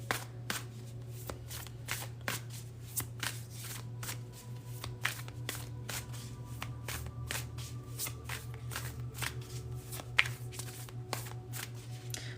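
A tarot deck is shuffled before an advice card is pulled, giving a close, quiet run of rapid papery riffles and soft slaps that repeat steadily over a low background hum.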